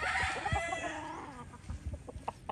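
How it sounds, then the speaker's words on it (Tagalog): Hens at a gamefarm give several close, soft clucks and short calls, irregular and unhurried, with a brief burst of sound at the start. "Puro hen yan."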